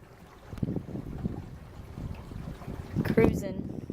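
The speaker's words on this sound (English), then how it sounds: "Sailing back in to Dad's" An O'Day daysailer sailing on a jibe off Port Royal, South Carolina, with gusty wind buffeting the microphone, water sloshing against the hull and occasional creaks and rattles from the boat, and a voice briefly speaking.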